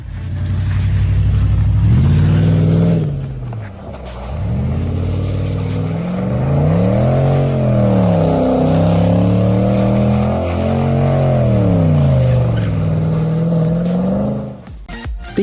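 A custom-built muscle car running a 300-horsepower Audi A8 engine revs loudly and close, its pitch sweeping up and down in repeated sustained blips for about fifteen seconds before cutting off.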